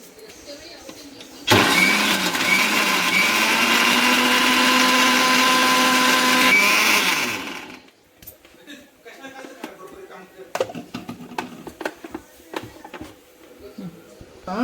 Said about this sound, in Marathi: आता आपण मिक्सरमध्ये टाकून असं फिरून घ्यायचं.